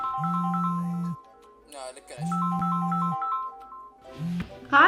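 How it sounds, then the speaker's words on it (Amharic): A mobile phone rings with a repeating electronic melody in two bursts separated by a pause, fairly loud and close, with a voice talking briefly between and after the rings. "ስልክሽ እየጮኸ ነው።"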